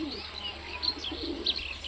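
Pigeons from a high-flying old-bloodline flock coo softly and steadily, with a few sharp bird chirps cutting in near the middle and end over a low background hum.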